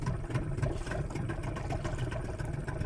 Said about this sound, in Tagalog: Ayan, nalakas-lakas natin ang motor.